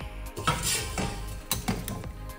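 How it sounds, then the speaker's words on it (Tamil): A ladle stirs cluster beans in a metal pan, making a few rhythmic scraping strokes and clanks roughly every half second over a low background hiss. "கரண்டியில் நல்லா மிக்ஸ் பண்ணி விட்டுடலாம்"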